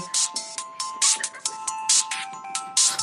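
A mobile phone ringtone rings loudly in repeated bright bursts with short gaps, a steady electronic melody carrying through the whole stretch with no one speaking over it.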